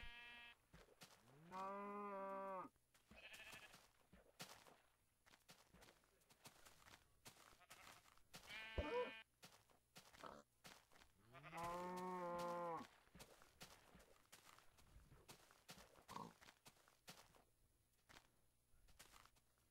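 Repeated cow moos from a Minecraft game ring out among soft footsteps and shuffling, a few long lowing calls spaced apart, fairly clear and close.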